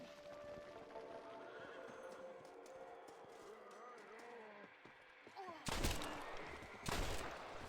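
In Red Dead Redemption: Undead Nightmare, a horse whinnies amid hoofbeats and game ambience, joined by sharp gunfire bursts toward the end, at moderate volume.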